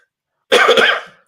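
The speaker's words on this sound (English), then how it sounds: "I'm still coughing a bit" A single loud, close cough from an adult recovering from the flu bursts out after a moment of silence, followed by a brief short catch of breath at the end.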